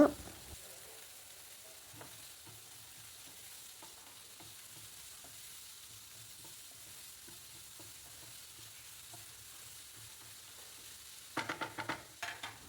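Finely chopped carrots and beans sautéing for a carrot-beans-egg poriyal, a quiet steady sizzle with soft scattered stirring clicks, ending in a few louder scrapes of a spoon against the pan.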